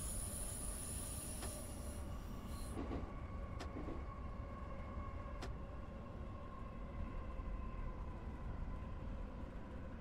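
Keihin Tohoku line commuter train in Tokyo, from a train simulator game, rolling with a steady low rumble of wheels on rails, a thin high squeal that fades early, and a few sharp clicks over the running noise.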